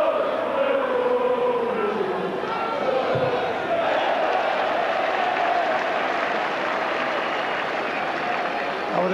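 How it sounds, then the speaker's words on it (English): Crowd applause and general noise fill the stands at a Millwall football match against Wolves, sustained and steady throughout, with a commentator talking over it. "I would imagine every challenge and every tackle now would definitely be applauded."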